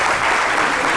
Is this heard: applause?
yes